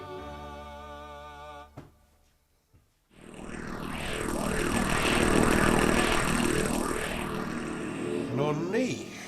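Motor-driven rotary vane compressor starts up after a brief pause, then runs with a loud, steady whirring drone and rising, shifting tones that stay continuous until near the end.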